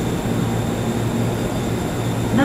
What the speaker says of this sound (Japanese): The home liner 大垣 No. 1 bound for 大垣 will soon arrive at track number 11.